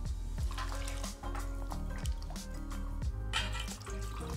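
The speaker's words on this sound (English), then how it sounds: "We'll drain the water each time we rinse them." Dried shiitake mushrooms being rinsed in a bowl of water in a home kitchen, with soft sloshing, dripping and trickling water sounds, steady and close, without speech.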